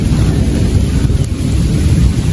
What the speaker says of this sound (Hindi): बादल गजने लगे